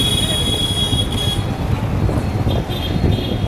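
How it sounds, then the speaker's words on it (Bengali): A metro train rumbles past nearby on a Sunday outing, a steady low roar with faint high electrical whines, continuous and fairly loud throughout. "ওই যে মেট্রো যাচ্ছে দেখে নাও"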